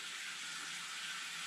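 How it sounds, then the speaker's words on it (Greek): Cold water runs steadily into a bathtub, a continuous bright hiss of flowing water at close range with no talking. "Από ό,τι βλέπετε, η μπανιέρα μου γεμίζει σχεδόν με κρύο νερό"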